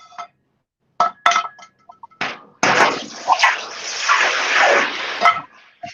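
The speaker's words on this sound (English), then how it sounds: "All right, hot metal and water." Hot molten copper plunged into water, giving a loud, broad hissing sizzle that bursts out and sustains for a few seconds, preceded by short clinks and knocks.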